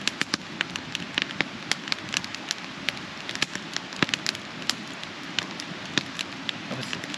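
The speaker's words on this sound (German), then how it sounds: "Ich glaube, es ist herbe Umweltverschmutzung, wenn ich schon sehe, dass das grün brennt." Trash burning in an outdoor fire with green flames, crackling and popping steadily at close range, with dense irregular snaps over a continuous hiss and no speech.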